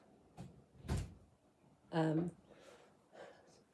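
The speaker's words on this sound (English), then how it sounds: "I can hear doors banging" Doors banging inside a house in hot weather, a few scattered thuds and knocks at moderate distance, including one sharp bang and a creaky scrape, against quiet room noise.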